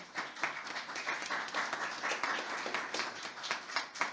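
Conference audience applauding the staff of the Center for Democracy Foundation at a Western Balkan youth event, a lively, continuous round of clapping from a seated crowd with individual claps audible through the steady wash, no speech.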